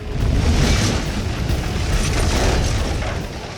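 A huge fuel-boosted explosion booms as one sustained, roaring blast. Heavy low rumble fills the whole stretch and slowly tapers off, with no talk.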